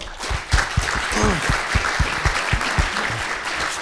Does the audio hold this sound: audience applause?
yes